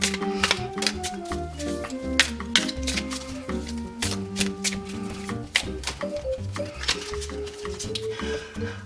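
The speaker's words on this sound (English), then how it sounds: "So let's shuffle up the pack." A deck of tarot cards is shuffled by hand as rapid, crisp flutters and riffles in irregular bursts, close and clear, over musical accompaniment.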